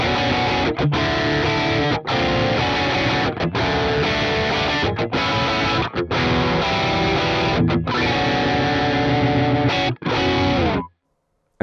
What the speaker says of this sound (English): you could push the tone and get a brighter, more articulate sound.